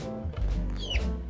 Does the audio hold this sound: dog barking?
no